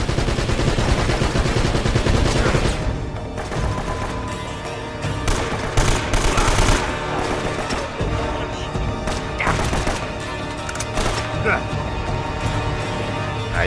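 Dense, repeated gunfire and crashing impacts from Uncharted: Drake's Fortune on PS3 carry through the whole stretch at steady loudness, with a player talking over the shooting.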